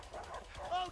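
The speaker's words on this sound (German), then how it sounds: "Das Standardgeräusch für einen Hund" A dog barks in the video game A Way Out, a short, faint yelp over quiet game sound with a voice murmuring beneath it.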